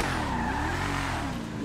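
A tuned Enus Paragon R race car engine in GTA 5 Online roars loudly and steadily up close, with a continuous revving drone and no talk.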